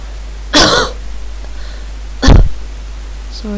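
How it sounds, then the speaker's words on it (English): Two sharp coughs, each a brief harsh burst, separated by a quiet pause, close to the listener with faint background hum. "Sorry for coughing"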